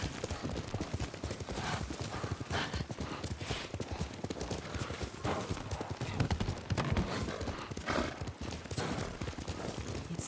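Steady clip-clop of horse hooves at a riding gait in the video game Ghost of Tsushima, continuous and fairly loud throughout, with an occasional faint whinny and no talk.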